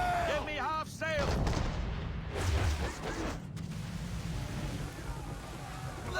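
Ship's swivel gun cannon blasts during a naval battle in Assassin's Creed III, heavy booming reports among wind and sea noise while a crew shouts orders over the firing.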